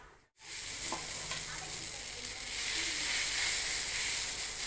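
Carrot and egg omelette mixture hits a hot pan after a brief pause, then a loud, bright continuous sizzle and hiss that holds steady and swells slightly toward the end, with no talking.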